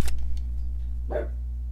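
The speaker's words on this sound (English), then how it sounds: "My dog just barked." A pet dog gives a single sharp bark nearby, over a steady low hum and faint game noise, with a brief pop at the start.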